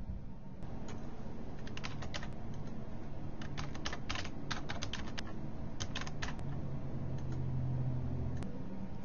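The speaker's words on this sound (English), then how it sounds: "I'm going to type in some labels for the attributes to display in the legend." Light typing on a computer keyboard, quick bursts of soft key clicks separated by short pauses, close and fairly quiet over a faint steady hiss.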